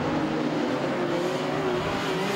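Modified sedan race cars roar around the Archerfield Speedway dirt oval in Queensland, a steady, loud engine drone with rising pitch as the pack runs together.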